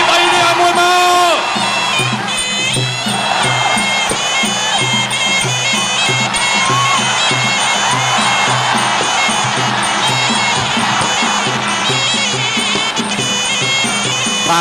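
A crowd cheers and shouts at a Kun Khmer versus Muay Thai fight, with a loud ongoing roar of voices and whoops. Tonal music plays throughout, and an announcer speaks over the noise near the start.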